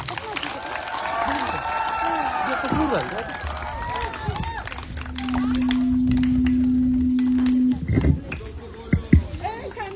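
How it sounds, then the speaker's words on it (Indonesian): Audience applause welcomes someone speaker at a children's event in Indonesia, rising amid crowd noise and cheering and mixed with a sustained tone and chatter before tailing off into scattered sounds. "Kita jemput Ibu dengan tepuk tangan yang meriah."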